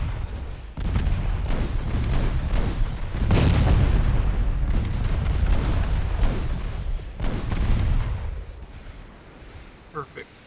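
Warship broadside gunfire in the naval strategy game Ultimate Admiral Dreadnoughts: heavy, rumbling cannon booms that roll into one another for several seconds and then fade into a quieter tail.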